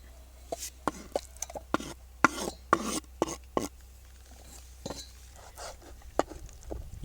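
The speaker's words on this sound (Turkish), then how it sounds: "Şimdi bu doğradığım ciğerleri tavaya boşaltıyorum." Sharp knocks and scraping clatter of chopped liver and utensils against a pan, irregular and close, with a low steady hum underneath, while cooking at a campsite.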